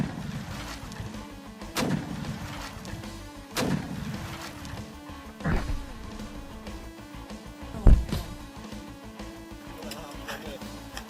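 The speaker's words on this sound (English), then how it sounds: "using controlled explosives to destroy nests and kill rats." Controlled explosives blast rat burrows on a farm, giving several separate booming thuds spaced a couple of seconds apart over a low rumbling background, each sharp and moderately loud.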